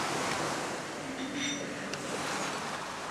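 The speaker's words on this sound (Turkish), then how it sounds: "Böyle arkada deniz var." Sea waves wash steadily behind an outdoor seaside sitting spot, a soft, even rush of surf that stays fairly faint and distant throughout, with no one speaking.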